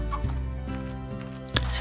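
Chickens in the video game Slime Rancher cluck steadily over a low hum, with a sharper, louder cluck near the end and no talking.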